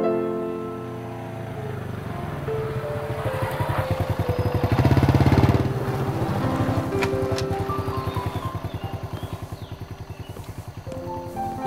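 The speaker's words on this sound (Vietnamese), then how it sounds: "Nổ máy sẵn thì về luôn đi." A motorbike engine runs close by with a steady throbbing idle that swells and revs around the middle before settling back, loud and alone without speech.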